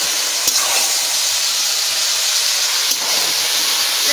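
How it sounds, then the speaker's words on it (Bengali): Chicken meat sears in a pan, giving off a constant bright steamy hiss with a couple of faint clinks, close and fairly loud. "লাল লাল করে কষাই দিচ্ছি।"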